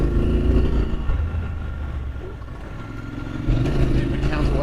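A 2023 Triumph Scrambler 1200 XC motorcycle engine rumbles and pulls on gravel and dirt with traction control off, loud and steady with a swell of revs near the end, under wind and a rider talking.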